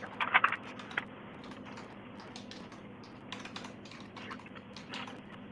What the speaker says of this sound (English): Man, this keyboard is loud.